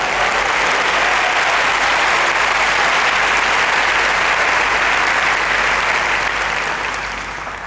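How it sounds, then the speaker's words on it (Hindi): Church audience applauding in praise of Jesus, a dense, steady, loud wash of clapping from many hands that holds evenly for several seconds before easing off slightly at the end. "चलिए यीशु की जोरदार प्रशंसा करते हैं।"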